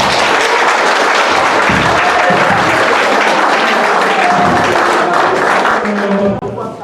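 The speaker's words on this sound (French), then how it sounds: "Applaudissez." Wedding guests at a civil marriage ceremony burst into loud, continuous applause, close and dense throughout, with some cheering voices mixed in before it tapers at the very end.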